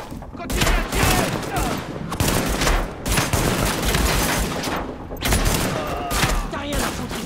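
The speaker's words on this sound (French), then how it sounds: "Continue à tirer." Heavy, continuous gunfire fills a firefight in The Division beta, with dense overlapping shots and booms that pause briefly every second or so, loud and close throughout.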